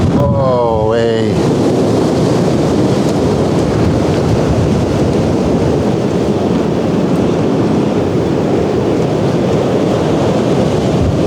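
A storm with rain, wind and thunder pounds steadily on a parked van in Chester and the Wirral during storms Isha and Jocelyn, a loud unbroken roar with a brief rising whine at the start.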